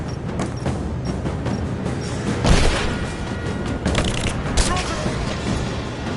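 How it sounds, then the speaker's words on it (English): Burst of gunfire and booms in a firefight in Rise of the Tomb Raider, steady loud shots with a heavier impact midway, voices calling out over the combat. "Taking fire!"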